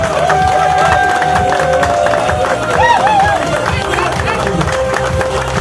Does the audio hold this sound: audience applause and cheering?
yes